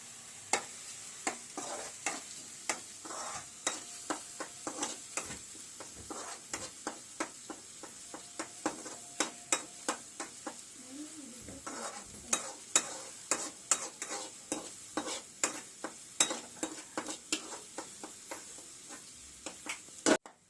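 Masala for mushroom curry frying in a pan over a low flame, a steady soft sizzle broken by frequent clicking and scraping strokes of a spoon stirring it, close and continuous with no talking.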